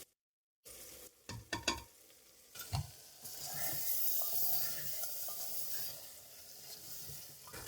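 Ground red chili, turmeric and salt stirred into chicken sizzling in a clay handi for biryani, with a few spoon scrapes early on, then a steady hiss of frying that swells and holds close and fairly loud.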